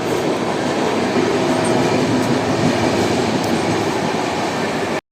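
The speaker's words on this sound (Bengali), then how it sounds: "ট্রেনটা যেতে লাগলো" Train pulling out of Belakoba, a quiet local station, a loud steady rumble of rolling railcars with faint wheel clatter and squeal, close and continuous until it cuts off.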